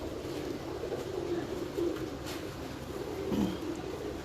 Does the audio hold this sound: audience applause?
no